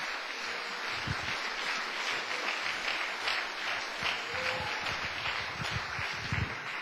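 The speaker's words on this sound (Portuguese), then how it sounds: "Agora você pode dar uma salva de palmas." Applause from a church congregation fills the space steadily throughout, a dense wash of many hands clapping at moderate distance, with no one speaking over it.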